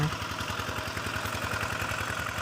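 A farm tractor engine drives a pump drawing water from a canal to irrigate a corn field, a steady, moderately loud chugging drone with a regular low pulse and no talk.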